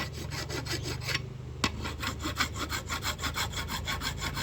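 A hand file rasps steadily across a part from an old Yamaha Mate 100 / Y100 carburetor being repaired for a fuel leak. The strokes are close, loud and evenly rhythmic, with a brief pause partway through and no talking.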